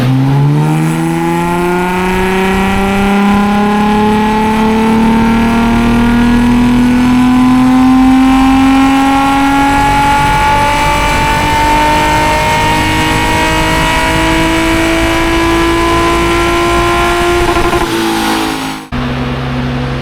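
A BMW 2.8 engine on a dyno during rally car tuning revs hard and continuously, its pitch climbing steadily through a long pull before cutting off abruptly near the end.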